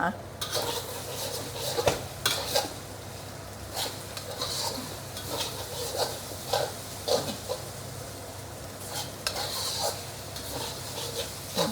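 Mee Goreng ingredients stir-fried in a pan over high heat, with repeated scraping and clanking of a utensil against the pan above a steady sizzle, close and fairly loud, with no voices.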